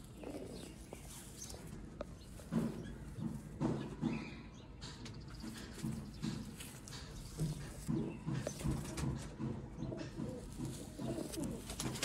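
Sialkoti pigeons coo in soft, repeated rolling calls, faint and somewhat distant, against a low background of rustling and handling noise.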